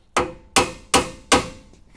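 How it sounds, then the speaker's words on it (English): Four sharp, evenly spaced hammer taps ring out on a metal front bumper of a Ford Transit van, each a crisp, close strike with a short ringing decay. "we're going to tap it back into place with the hammer"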